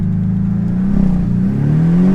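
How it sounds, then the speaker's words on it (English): A car launches at full throttle for a 0 to 60 run, its engine note climbing steadily in pitch with a loud, continuous whirring roar. "I'm just going to literally plant my foot onto the throttle"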